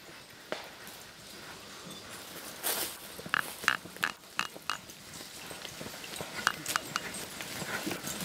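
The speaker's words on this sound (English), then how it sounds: "they're not just cart horses" Hooves clip-clop irregularly on a hard surface amid a noisy, bustling outdoor background, with faint voices in the mix.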